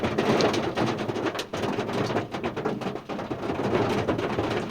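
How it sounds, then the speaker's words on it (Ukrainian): Hail drumming on a roof during a storm over a soybean field, a dense, loud, continuous clatter of many scattered impacts with no talk. "Є град."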